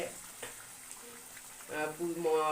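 Chicken kasha frying in a pan with small splashes of water, a soft crackling sizzle that swells louder and busier toward the end, close by, with a faint voice in the background.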